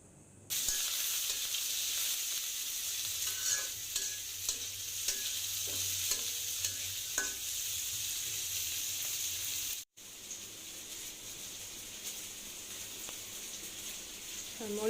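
Onions and green chilies frying in a little oil in a home kitchen, a steady close sizzle with intermittent stirring scrapes and crackles, briefly cut off near the end before the frying resumes more softly.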